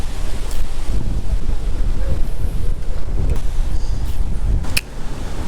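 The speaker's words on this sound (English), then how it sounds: "Wind is definitely picking up right now, so it's going to make it tough for me to cast around here." Wind gusting across open water while fishing for crappie from a boat in fall, a steady loud rumbling buffet against the microphone with faint splashing and a brief lull near the end.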